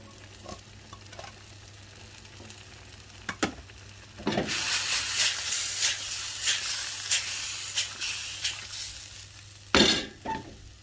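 Bok choy hits a hot wok with scallop and ling fish, bursting into a loud, sustained sizzle and hiss. Rhythmic metal stirring and scraping follow, ending in a sharp clank near the close, after quieter utensil taps at the start.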